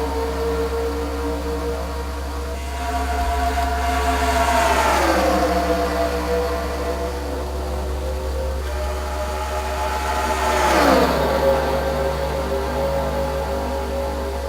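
Race car engines roar in a NASCAR video game at the Gauntlet track as the race gets underway, with two distinct pass-bys whose pitch swoops downward over a steady low drone.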